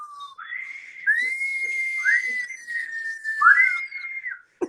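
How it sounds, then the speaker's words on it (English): A series of bright, sustained whistle tones rise and hold, repeated several times across a few seconds with short dips between them, loud and clear with no voices. "the whistle come out on that"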